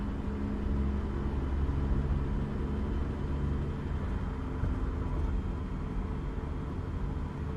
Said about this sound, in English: I guess you guys can hear the rumble strips.